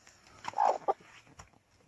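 A hen gives a few soft, short clucks close by inside a dark henhouse.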